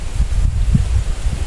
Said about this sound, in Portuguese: Olha o vento, meus amores.